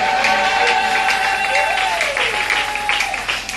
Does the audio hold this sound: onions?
no